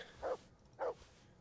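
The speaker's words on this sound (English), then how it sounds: "I wish the dog would shut the fuck up unless there's someone actually around." A dog in the medieval role-playing game Kingdom Come: Deliverance gives two short, separate barks, fairly faint and a little distant, with quiet between them.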